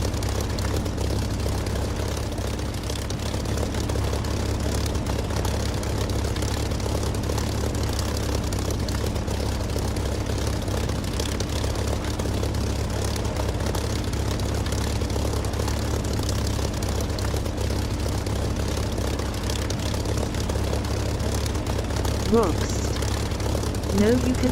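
Steady propeller aircraft engine drone, loud and continuous, from a DCS or War Thunder flight sim as the plane prepares to take off, with a voice talking over it near the end.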